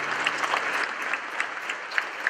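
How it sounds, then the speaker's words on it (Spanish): A congregation applauding at a Hispanic charismatic Catholic renewal meeting, steady many-handed clapping in a large space with a few sharper claps standing out, no talk over it. "Vamos a dar un fuerte aplauso a esta presencia"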